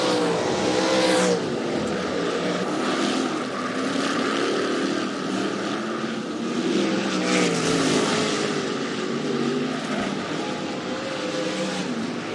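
305 sprint cars racing at Rapid Speedway, a dense, steady engine roar from a pack of cars at a dirt oval with no clear break.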